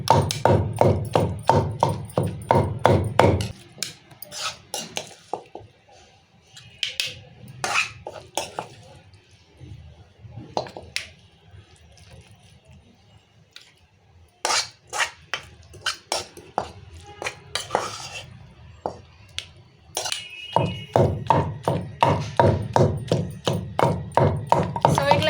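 Tomatoes and green chillies are pounded in a stone mortar for a chutney, making bursts of rhythmic, close thuds and taps. A quieter stretch in the middle has speech between the strikes.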